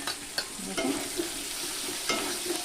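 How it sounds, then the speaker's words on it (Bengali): Green chillies fry lightly in oil, giving a steady close sizzle broken by a few sharp stirring scrapes and taps of a utensil in the pan. "লঙ্কাটা একটু হালকা ভেজে নিলাম"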